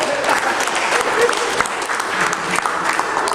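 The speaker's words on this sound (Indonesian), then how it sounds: "tepuk tangan untuk Pak Andono" A group claps for Pak Andono during a hypnosis session, a brief, dense burst of indoor applause that is loud and close and holds steady throughout.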